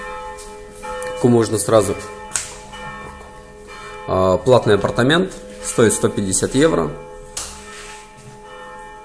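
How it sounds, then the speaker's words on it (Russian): Church bells of Savina Monastery in Montenegro ring steadily in the background, mostly masked by a person speaking close by in a room. "Вот вы слышите, колокола бьют."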